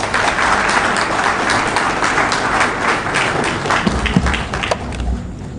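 An audience applauds at an awards ceremony honouring devoted taxpayers. Dense, loud, continuous clapping from many people fills the room and thins out slightly near the end.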